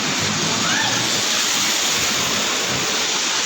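Flood water from a typhoon sloshing and rushing along a flooded city avenue, a loud, continuous wash of churning water, with a voice faintly present beneath it.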